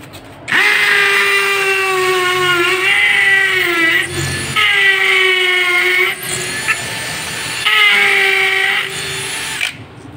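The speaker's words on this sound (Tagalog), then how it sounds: "bale sa masonry drill bit naman tayo, yung pang semento. Ayan, poste to guys, poste. Ayan, tingnan natin kung kaya din niya." An Ingco brushless cordless drill with a masonry bit bores into a concrete post, whining loudly in three sustained bursts with brief pauses between them, its pitch sagging slightly under load.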